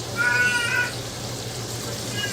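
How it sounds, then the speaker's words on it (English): A young girl screams in a high, thin wail lasting under a second at the start of a home kitchen scene. A steady low hum runs underneath, and a fainter second cry comes near the end. "my daughter right there, screaming"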